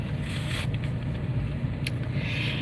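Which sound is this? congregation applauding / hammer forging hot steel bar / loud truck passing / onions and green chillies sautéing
loud truck passing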